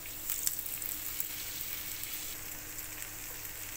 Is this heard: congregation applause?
no